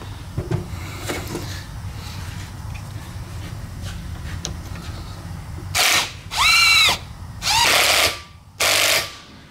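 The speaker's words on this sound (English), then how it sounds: "I'm going to hold out on this as I run the impact on here to tighten that up" An impact wrench tightens the fork cap on a Honda XR650R fork during a rebuild, firing four loud, close hammering bursts in quick succession after a quiet stretch of workshop handling noise.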